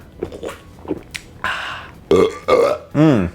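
Several loud belches after drinking a strong 9.5% beer, preceded by a few soft gulps and mouth sounds, the burps close and resonant, the last one long and rolling.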